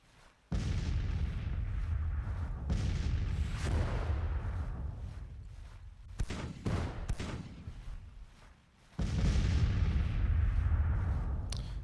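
Artillery fire in the Civil War strategy game Grand Tactician, with heavy booming cannon blasts in repeated bursts, loud and close, several sharp reports cutting through a rumbling barrage before a final sustained volley.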